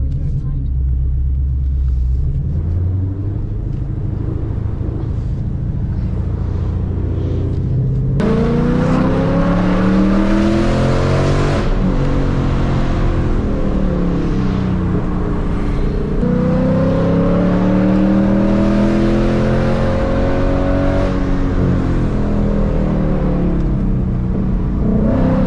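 A Shelby GT500's exhaust rumbles and revs as the car approaches, a loud, steady low growl with rising engine sweeps, under people talking throughout.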